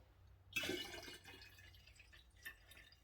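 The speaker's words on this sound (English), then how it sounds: "fill up with fairly equal quantities of water and also some brown vinegar" Water and brown vinegar poured over small pickling onions in a container, a steady liquid splash and trickle starting abruptly and running on fairly quietly, close by, with no talk.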